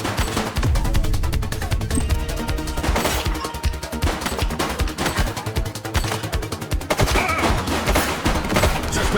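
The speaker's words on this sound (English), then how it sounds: "He's shooting!" Dense rapid gunfire from a police shootout in The Precinct, with rattling bursts of shots firing almost continuously and loud close cracks breaking through.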